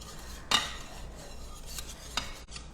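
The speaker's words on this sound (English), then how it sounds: "use your whisk to kind of press it through" A whisk working homemade pudding in a pot on an induction cooktop, soft scraping and swishing with two sharper metallic clinks against the pot, fairly quiet and close.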